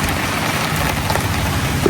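Heavy monsoon downpour hisses in a dense, unbroken wash, loud and close, with no gaps or voices.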